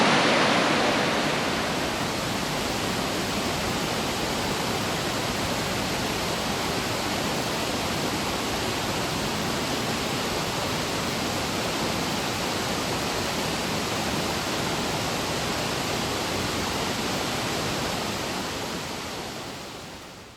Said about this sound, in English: To stand here and view this waterfall when it was running at its peak water flow rate, the sound of the waterfall must be deafening.